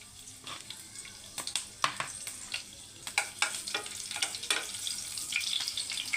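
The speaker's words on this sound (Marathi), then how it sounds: "आता हे तेल चांगलं तापलेलं आहे तर आपण त्याच्यात आधी टाकूया हिरवे मिरचीचे तुकडे" Green chili pieces crackle and sizzle as they hit hot oil for a jackfruit bhaji, with sharp popping bursts over a steady frying hiss, close and moderately loud, no talking.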